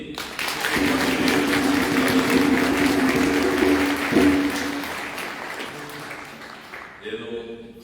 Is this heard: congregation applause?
yes